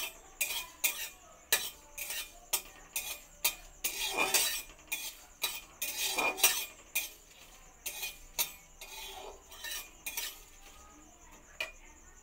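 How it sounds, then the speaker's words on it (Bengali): Whole spices dry-roasted in a wok, with repeated metallic scrapes and clinks of a spatula stirring against the pan in uneven bursts, close and clear, with only a faint sizzle. "হালকা একটু কড়াইটা নাড়াচাড়া করে ফোড়নটা আমি ভেজে নেব"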